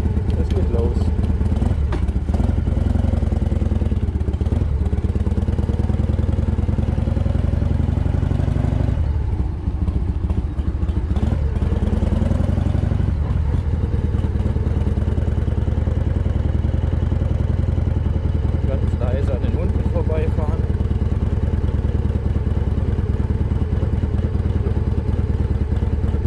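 Harley-Davidson EVO motorcycle on a test ride after front four-piston brake caliper overhaul with fresh brake pads, its engine rumbling steadily and loudly throughout with wind and road noise, briefly dipping around the middle.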